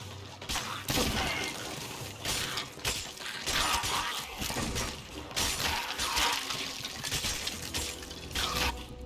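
Gunpowder kegs exploding during a naval fight in Sea of Thieves, a series of loud crashing, splintering bursts mixed with splashing water, recurring every second or two over dense battle noise.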